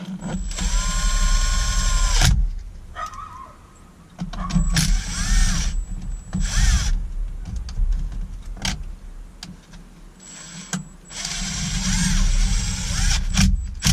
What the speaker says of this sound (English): Two screws put back in here and the one screw back in here